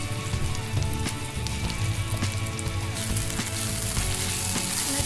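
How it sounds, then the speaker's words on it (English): Prawn masala with onion and tomatoes, seasoned with turmeric and salt, fries hard in a pan. A dense, loud, continuous sizzle with crackling pops carries on throughout, close up, and nobody speaks. "The masala should fry very nicely."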